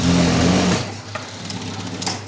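A sewing machine runs fast stitching a straight seam on a blouse hook strip, loud and close for under a second before stopping, leaving a low steady hum and faint handling clicks.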